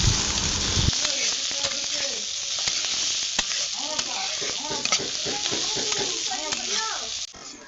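Chopped onion, garlic and green chilli sizzle steadily in oil in a wok, close and loud, with scraping stirs and occasional clinks throughout; a brief hum at the start gives way to continuous frying.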